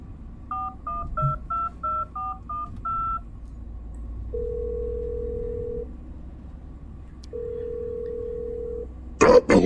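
A phone being dialed: a quick run of about eight keypad tones, then two long steady tones with a pause between, ending in a brief loud burst.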